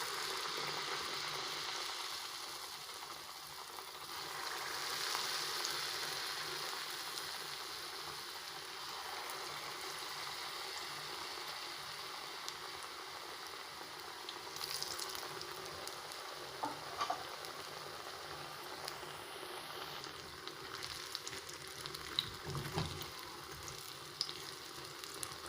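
Ridge gourd bonda deep-frying in oil, giving a soft, continuous bubbling hiss that stays quiet and steady, with a few faint clinks near the end and no talking.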